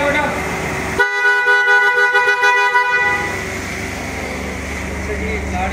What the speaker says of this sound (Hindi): हॉर्न बजा बेटा।